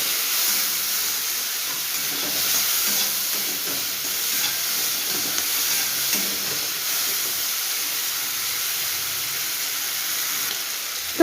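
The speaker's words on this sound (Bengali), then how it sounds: "এবার চলুন এগুলোকে ভেজে নিই।" Prawns seasoned with turmeric and salt fry in hot oil, giving a continuous bright sizzle and hiss with faint stirring scrapes underneath and no voices.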